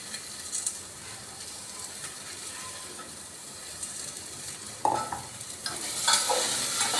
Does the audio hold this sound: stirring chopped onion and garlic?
yes